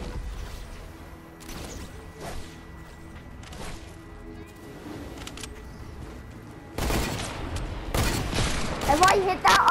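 Fortnite video game gunfire: scattered shots early on, then a dense, loud burst of rapid fire over the last few seconds, with faint voices underneath.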